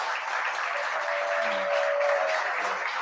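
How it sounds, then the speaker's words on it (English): Audience applause after a conversation event, a steady, fairly faint wash of many hands clapping at an even level throughout, with a brief tonal hum in the middle. "Please give him a round of applause."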